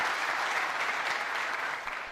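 Studio audience at a Honduran presidential candidate forum clapping steadily, a dense even applause that tapers slightly at the end.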